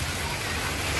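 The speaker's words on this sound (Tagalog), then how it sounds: "Ang lakas talaga ng ulan." Heavy rain pours steadily at home during a storm, a dense, loud, unbroken wash of noise with no pauses.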